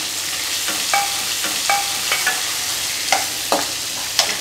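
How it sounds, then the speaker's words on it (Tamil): Onion goes into a pan of frying peanuts, chana dal and urad dal, giving a steady loud sizzle with a handful of sharp metallic scrapes and taps from stirring, close up. "இப்போ வந்துட்டு வெங்காயம் ஆட் பண்ணிக்கலாம்."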